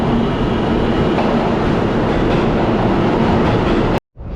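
A New York subway train roars past loudly and steadily with a dense metallic rattle and clatter, then cuts off abruptly into silence near the end.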